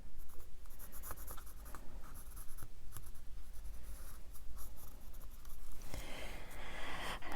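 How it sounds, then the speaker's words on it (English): A pen drawing a line across paper while gluing a collage, steady close scratchy strokes running throughout with a brighter rustle near the end, no talking. "draw a line here so that we can see where not to glue"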